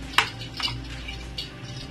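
A spoon stirs pasta into mayonnaise dip sauce in a bowl for a pesto pasta, giving a few soft, sparse clinks and scrapes over a low background hum, with no voices.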